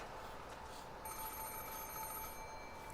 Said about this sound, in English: It was the antique extension phone that was set out on Grandfather's study desk. It had started ringing right as we began this conversation.